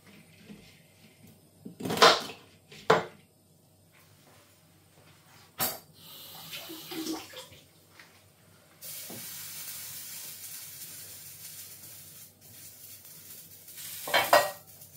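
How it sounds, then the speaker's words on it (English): Water heating on a kitchen hob for sprouts and broccoli, sharp pan and utensil clanks early on, then a steady broad hiss of boiling water that carries on to the end. "I'm boiling some water for the sprouts"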